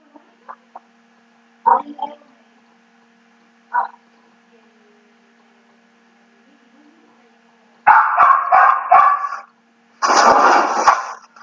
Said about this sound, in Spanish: A ver si ahora conseguimos dominar los ladridos